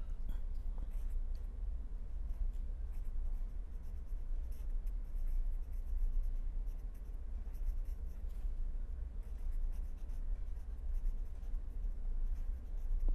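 Chalk or pen writing out equilibrium equations during an engineering lecture on curved beams, a faint continuous scratching over a low room hum, with no talk.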